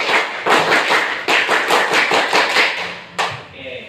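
A school class does the Indonesian scout clap together, rapid rhythmic rounds of loud, sharp group claps in bursts, repeated twice, close and crowded.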